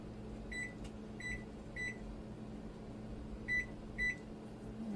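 Electric Dezin steamer pot timer being set for steamed dumplings, giving five short, sharp beeps in an irregular sequence over a steady low hum.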